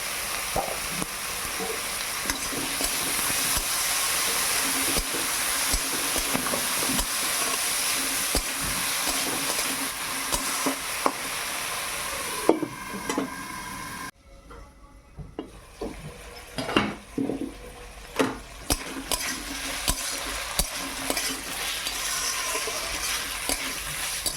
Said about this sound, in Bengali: আগে আমি এই সবজিগুলো কষিয়ে নেই